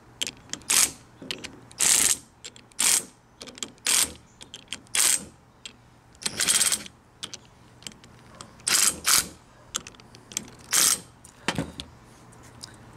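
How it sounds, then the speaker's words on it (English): A ratchet wrench clicks in repeated short bursts while tightening ring gear bolts on the carrier of a Jeep Wrangler YJ Dana 30 axle, sharp and close with pauses between strokes, and no voices. "tighten up one of these bolts, the next one beside of it gets loose"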